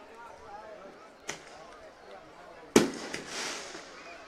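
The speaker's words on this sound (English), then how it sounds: "The fireworks are going off." Fireworks burst at a high school football game, two sharp bangs a second or so apart, the second louder with a crackling tail, heard over crowd noise and a commentator's voice.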